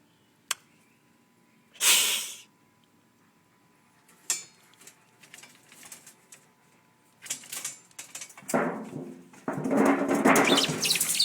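A trapped bird in a garage beats its wings in scattered bursts of fluttering, with sharp knocks and rustles against surfaces, loudest and most continuous toward the end.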